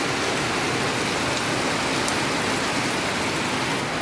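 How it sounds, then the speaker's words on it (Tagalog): Heavy early-morning rain pours down in a dense, unbroken hiss, loud and steady throughout, with no voices. "Grabe yung ulan mga kabor."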